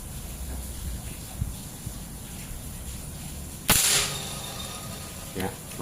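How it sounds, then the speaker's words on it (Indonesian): A PCP air rifle, a Predator Monel Biggame sidelever charged to 4000 psi, fires once at a metal target. It gives one sharp, loud crack with a brief metallic ring over steady outdoor background noise. "Kita tembak metal saja dulu."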